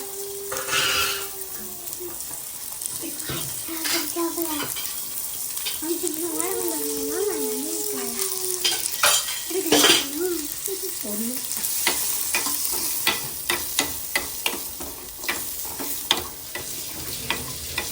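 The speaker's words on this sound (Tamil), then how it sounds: "மிளகு போட்டாச்சு ஜீரகம் சோம்பு இதை வதக்கிக்கிறணும்" Onion, pepper, cumin and fennel sauté in a pan for a crab curry with a soft steady sizzle, punctuated by repeated scraping stirs, and a bird chirps faintly in the background.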